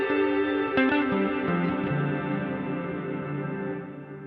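A strummed electric guitar chord and a few picked notes through a NUX MG-300 swell into a wide, lingering hall reverb that slowly fades.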